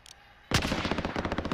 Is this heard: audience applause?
no